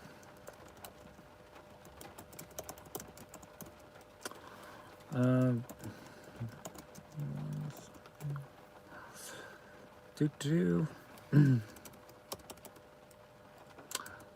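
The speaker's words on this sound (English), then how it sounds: "I'm just typing it out for you guys." Computer keyboard typing during a live Q&A stream, soft scattered key clicks running through the clip with a few louder bursts, while a person speaks briefly and quietly over it.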